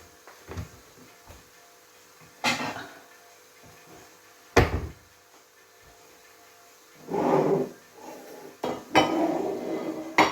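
Kitchen clatter as a plate is taken out: several separate clinks and knocks of dishes and a cupboard, close and fairly faint, spaced across a quiet background with a brief rustle.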